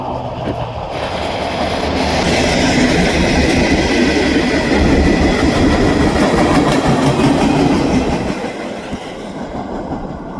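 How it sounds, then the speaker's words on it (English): CSX freight train led by locomotive 4744, a flared-radiator GE Dash-9, rolling past close by with a loud, continuous rumble and clatter of wheels and cars that eases slightly near the end. "let the sniper roll past. It's awesome to see a 4744 Flared Mac leading this train."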